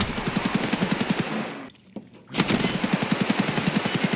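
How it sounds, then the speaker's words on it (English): Rapid automatic gunfire in Escape from Tarkov, close and loud, with an even stream of shots that breaks off briefly near the middle and then resumes at the same steady pace. "Just keep shooting that wall."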